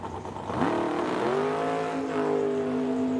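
A 1983 Chevrolet Camaro drag racing on the right-hand lane of a strip, its engine revving hard and climbing in pitch through gear changes as it accelerates away, loud and close with no talk.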